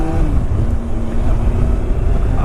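A fast Kawasaki Concours motorcycle is ridden at speed, with a steady engine drone and strong wind rush on the microphone throughout.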